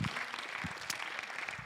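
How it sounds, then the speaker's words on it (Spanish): A church congregation applauding God during a bilingual sermon, a brisk crowd of hands clapping steadily with a few louder individual claps standing out, close and lively. "Give God a big applause."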